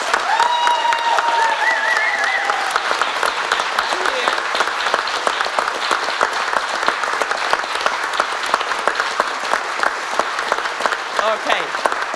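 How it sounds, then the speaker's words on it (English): An audience at the closing session of a conference in Riga, Latvia gives sustained, loud applause, dense clapping throughout, with a voice speaking briefly near the start. "So please, a round of applause to Frenny, Aurelia, Marco and Maya, please."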